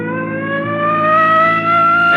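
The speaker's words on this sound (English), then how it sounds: "Come on, hit your siren." A loud car siren wails steadily, its rising tone holding close and continuous, with no voices over it.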